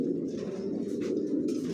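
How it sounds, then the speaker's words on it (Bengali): Racing pigeons, young birds from a loft, coo in a steady low murmur that fills the whole stretch, close by, with a few faint chirps above and no talking. "জনসনের লংয়ের কবুতর দিয়ে শর্ট মিডল লং সবভাবে রেস করা যায়।"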